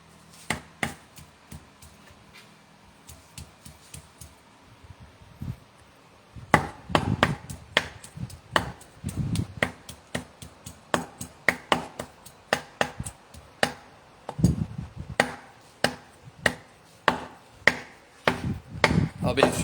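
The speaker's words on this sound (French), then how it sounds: "Eux ils se mettent assis, bien entendu, pour couper." A knife chopping beef on a wooden board for Thai laap, a steady run of sharp, close chops that comes in bursts, with a brief lull before the fast cutting resumes and carries on without pause.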